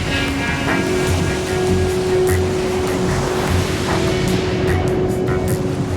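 Ocean surf breaking continuously, a dense, loud roar of crashing waves with a steady low rumble throughout and no voices.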